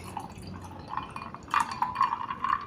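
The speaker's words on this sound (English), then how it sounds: "I'll go ahead and serve myself a cup with some ice cubes in it" Homemade apple and pineapple juice poured into a cup over ice cubes, a soft trickling stream with light glassy clinks, quiet and close, growing fuller toward the end.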